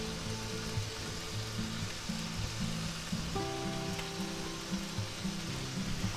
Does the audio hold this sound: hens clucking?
no